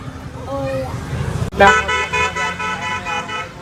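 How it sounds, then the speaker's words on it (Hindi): A scooter rides through busy street traffic: engine and road noise run throughout, then loud, close horn blasts sound in repeated pulses partway through, while voices talk over the traffic. "मैं चला रहा हूँ भाई स्कूटी"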